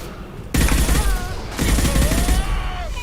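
Rapid bursts of automatic gunfire from the video game Mass Effect 2, with two loud fusillades a second apart amid game sounds.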